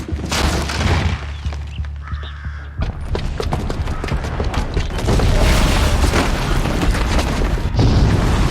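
Bomb explosion in Horizon Zero Dawn, a loud deep rumble that gives way to a crashing burst and a sustained barrage of debris and blasts, close and heavy.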